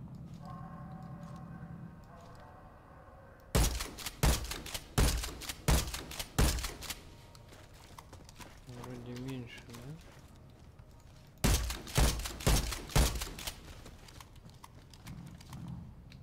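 A suppressed FABARM compact shotgun fires in the Warface video game in two quick bursts of sharp, punchy shots, with a quieter stretch between them and someone speaking in between.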